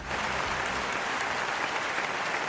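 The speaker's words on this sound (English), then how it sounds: "You deserve claps, applause." Steady applause, a dense continuous patter of many hands clapping at even loudness throughout, with no voices over it.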